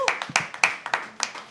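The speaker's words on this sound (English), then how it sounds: "Yeah, you can start clapping." Hands clapping at a live poetry open mic, a handful of sharp, fairly close claps in an irregular rhythm from a small group rather than full applause, with a voice speaking briefly.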